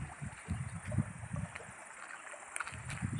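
Low, continuous rush and gurgle of flowing water outdoors, faint with soft wind, no talking.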